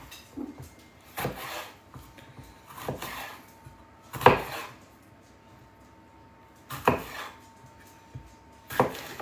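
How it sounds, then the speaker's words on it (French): A knife chops bell peppers on a board in a home kitchen, with sparse, separate strikes a second or two apart, each a short crisp thud with some scraping. "Donc là, je coupe mes poivrons."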